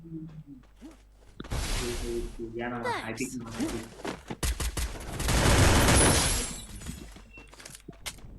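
Gunfire in the Free Fire battle royale game, rapid bursts and shots mixed with shattering impacts and a sustained loud barrage, while players talk over the action.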